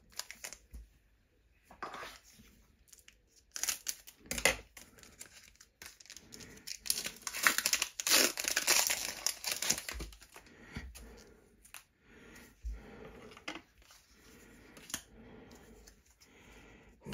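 A foil Pokémon trading card booster pack wrapper is torn open and handled up close, giving irregular bursts of crisp crinkling and ripping with short quiet gaps and no talking.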